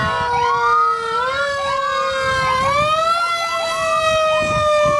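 A fire truck siren at the Rineyville Day parade wails loud and close, its pitch sweeping up and down in long continuous glides with a low engine rumble underneath.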